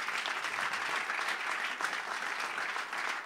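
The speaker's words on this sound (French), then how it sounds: "Est-ce que tu peux acclamer pour cette parole?" Congregation applauding during a church service, a dense, steady wash of clapping from many hands that carries on evenly throughout.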